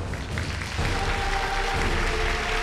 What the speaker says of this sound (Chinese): 来，掌声请出他们，掌声有请。